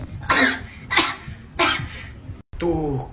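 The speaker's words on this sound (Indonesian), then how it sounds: "Tuh, kan bener batuk." A child coughs three times in sharp, evenly spaced bursts, followed by a brief pause and a short vocal sound.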